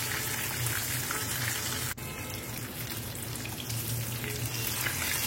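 Amudi fish fry in hot oil in a pan, giving a steady, close crackling sizzle with a brief sharp tick partway through.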